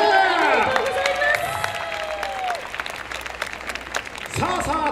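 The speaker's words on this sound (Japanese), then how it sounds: "大きな拍手。" Applause from the crowd at the awards ceremony of an Asian festival dance event, clapping under a loud announcer's voice and musical jingle tones, with some cheering, fading slightly then swelling again.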